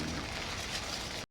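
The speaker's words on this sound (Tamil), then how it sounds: "சரியா மழை வெளியில் பெய்யுது." Steady broadband hiss of rain falling outside a tent on a hike to Kabaragala peak in Dolosbage, a continuous even patter with no talk, cutting off abruptly at the end.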